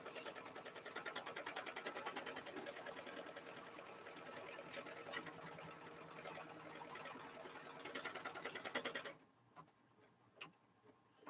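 An embroidery sewing machine runs a second stitch, giving a fast, rhythmic clatter of needle ticks that holds steady for about nine seconds before stopping abruptly, followed by faint scattered clicks.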